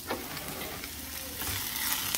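Chopped onion frying in a pan on the stove, with a steady, soft sizzle and crackle that runs throughout and grows slightly louder toward the end, with no voices.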